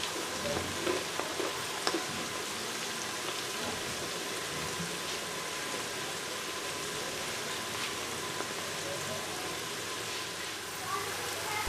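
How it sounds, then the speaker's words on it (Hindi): Onions fry in a pan for a masoor dal pakora curry, giving off a steady, dense sizzle that runs unbroken from start to finish with a few faint stirring clicks. "प्याज डालकर अच्छे तरीके से फ्राई करेंगे।"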